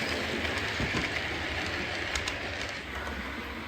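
A model railway train runs steadily on a layout with a continuous rolling rumble and faint clicking over track joints, moderately loud and unbroken throughout.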